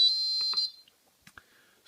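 Alarm from a homemade Arduino kitchen timer, a shrill electronic beeping tone that rings for about half a second, then cuts off, leaving a few faint clicks and small noises in near silence.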